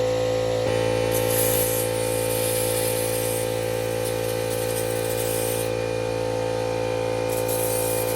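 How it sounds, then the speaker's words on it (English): Brake cleaner sprayed from an aerosol can onto a Toyota Prius brake during a brake fluid change, a continuous close hiss in short bursts over a steady mechanical hum, with no talking. "Spray brake cleaner on it."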